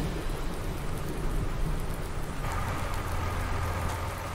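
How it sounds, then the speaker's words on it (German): Summer thunderstorm in the farming game Landwirtschafts-Simulator 19, a steady wash of rain hissing evenly throughout with a low rumble underneath that deepens slightly partway through, no talking. "Gewitter haben wir, ein Sommergewitter."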